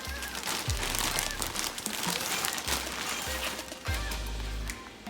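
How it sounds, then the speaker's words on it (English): A plastic bag holding an 18-inch natural-colour human hair bundle crinkles and rustles as the hair is pulled out, with dense close-up crackling throughout and several low thumps of handling. "So we're just going to take the hair out of the bag."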